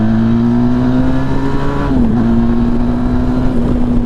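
A Benelli TRK 502 adventure motorcycle engine is revved in a short burst toward 6,000 RPM, a loud, close, steady droning tone with a brief dip midway before holding.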